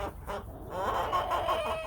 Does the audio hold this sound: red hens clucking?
yes